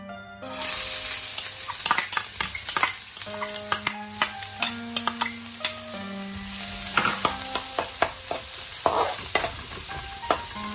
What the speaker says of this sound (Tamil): நான் ஆல்ரெடி கட் பண்ணி வச்சிருந்த ஒரு பிக் சைஸ் ஆனியனை இதில் சேர்த்து வதக்க போகிறேன்